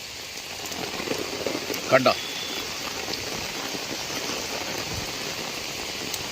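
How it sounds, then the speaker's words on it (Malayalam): Heavy rain pouring down near the medical college in Kozhikode, a steady dense hiss of drops on surfaces throughout, with a person speaking briefly over it. "കോഴിക്കോട് ഇതാ നല്ല മഴ പെയ്യുന്നുണ്ട്."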